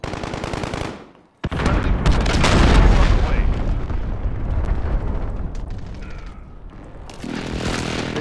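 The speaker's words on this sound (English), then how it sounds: "Enemy cruise missile incoming!" An enemy cruise missile strike in Modern Warfare, a loud sustained roaring blast with rumbling debris after a brief sudden dropout, mixed with gunfire, game sounds and voices talking.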